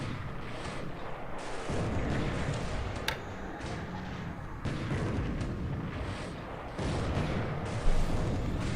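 Torpedo explosions and spreading fire in a naval combat game set on December 8, 1941, heard as a continuous dense rumble of booming blasts and crackle, with occasional sharper bursts standing out above the loud, steady roar.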